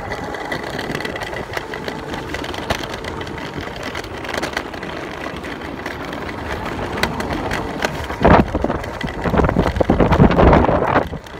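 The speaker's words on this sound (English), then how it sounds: "Dang, guys, it's windy as heck out here." Strong outdoor wind buffets a microphone, a constant rumbling roar with gusty swells that grow heavier and louder toward the end, with a faint engine-like drone underneath and no voices.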